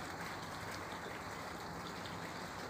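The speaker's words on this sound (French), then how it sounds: "il pleut un peu" Light rain falls steadily beside a parked camper van at a roadworthiness inspection, a soft continuous patter and hiss with no pauses or voices.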